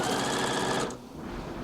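A sewing machine runs at a steady, fast whir while stitching the side pieces of a skater-style dress to the center back and front, then stops abruptly partway through with no one speaking.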